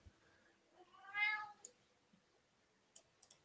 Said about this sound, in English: My cat really wants to leave.